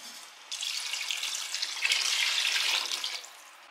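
Water poured into a pot of beef gravy for biryani, a continuous splashing gush lasting about three seconds, close and fairly quiet, with no voices.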